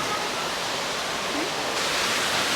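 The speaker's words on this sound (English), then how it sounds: "it's pouring rain and thunderstorming" Heavy rain pours down during a thunderstorm at a riverside pier restaurant on the Chao Phraya River, a dense, steady hiss that stays close and loud throughout, with no voices.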